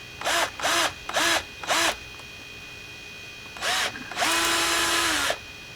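A power drill driving screws into deck boards: four short whirring bursts in a row, a pause, then one more short burst and a longer sustained run, close and loud.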